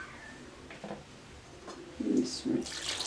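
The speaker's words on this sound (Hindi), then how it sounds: "मज़ीद 1 कप पानी मैं इसमें डालूंगी।" Water from a cup is poured into wholemeal desi wheat flour for paratha dough, quiet splashing and trickling at close range with a couple of louder gurgling spurts near the end, no talking.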